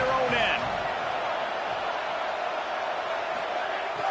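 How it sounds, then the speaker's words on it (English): A football stadium crowd roars in a steady, loud wash of massed voices sustained throughout, with a brief whoop near the start, as the defense tries to keep the opposing team pinned in its own end. "The roar of the crowd trying to fuel this defense to keep them pinned in their own end"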